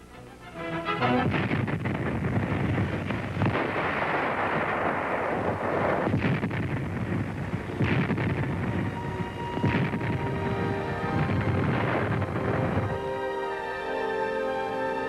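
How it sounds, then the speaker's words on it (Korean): Long-range artillery cannon bombardment in Korean War newsreel footage: a dense, continuous roar of heavy firing with repeated booming blasts, which gives way to tonal music near the end. "서울로부터 장거리 대포는 적군에게 무서운 포화를 퍼붓습니다"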